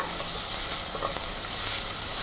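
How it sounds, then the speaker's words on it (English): Grated garlic and ginger frying in a pan with softened, lightly browned onions for a Sri Lankan beef curry, giving a steady, close, even sizzle with faint stirring and no talk. "Ginger and garlic also fried a little bit."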